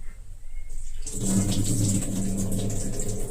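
Chana dal being washed in water: a brief quiet start, then steady pouring and sloshing water, close and continuous, with no talk.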